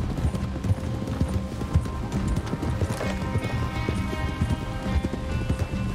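Horse hooves from the video game Red Dead Redemption 2 clip-clop in a quick, continuous rhythm, fairly close, with a soft background hiss.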